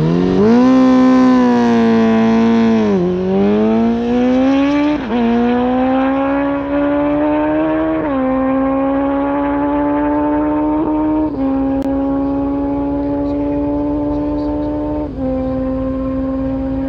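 A land speed race car on a timing association track roars loud and close, its engine note climbing steadily through several gear changes in a long, sustained acceleration with no talk.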